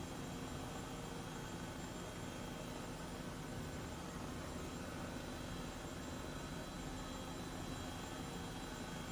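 Airbus H135 helicopter in Microsoft Flight Simulator, heard as a steady, droning turbine and rotor hum with a flat, continuous texture and no speech over it.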